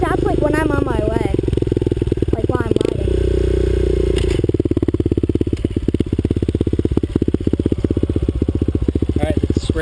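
A motorcycle engine idles loudly and close, cuts out briefly after a stall, then is started again and settles into a steady, throbbing idle, with a rider's helmet camera nearby.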